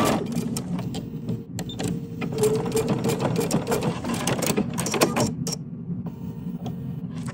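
A sewing machine runs steadily, stitching a quarter-inch seam on patchwork fabric, its motor and needle chattering loud and close without pause.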